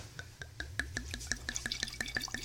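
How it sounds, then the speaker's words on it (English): Liquid poured into a container, heard as a close, steady series of bright glugging drips in a regular rhythm, with a faint low background hum. "Hear that pour?"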